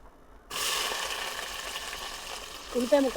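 Onion pieces sizzle steadily in hot oil in a pan for tomato kushka rice, a loud continuous frying hiss starting abruptly after a brief quiet moment, with a few clinks near the end.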